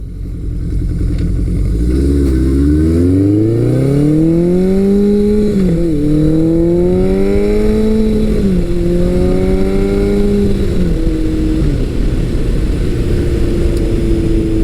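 A motorcycle is ridden at speed, either a vintage Suzuki GS1100 or a modern Kawasaki Versys 1000 LT, its engine loud and close, climbing through revs and gear changes over steady wind roar.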